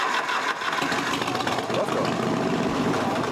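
A loud motorcycle engine idles steadily and runs rich during a police roadside noise check, a dense rumbling drone heard close up, with faint voices in the background.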